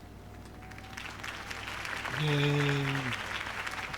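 Crowd applause after a Harvey Dent campaign speech in the Batman Telltale video game, a sustained wash of clapping with a brief cheer and a steady tonal hum swelling in the middle.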